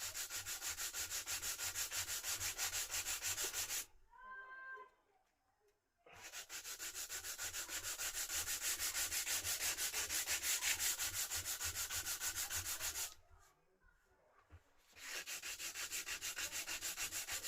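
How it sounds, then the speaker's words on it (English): Hand sanding along a wood veneer edge of a small speaker cabinet gives steady, close rasping strokes that run for long stretches, pausing twice briefly. "So we want to bring that round here again and just gently sand that in."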